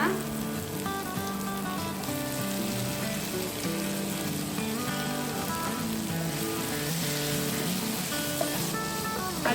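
Capsicum and tomato sautéing in a pan over a medium flame give a steady, even sizzle for the whole stretch, with a tonal musical bed running underneath and no break in the frying.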